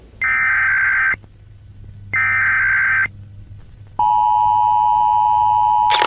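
An American Emergency Alert System tone plays loud and close: two identical harsh, buzzy data bursts separated by short silences, followed by a long steady two-tone attention signal.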